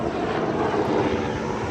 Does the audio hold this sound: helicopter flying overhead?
yes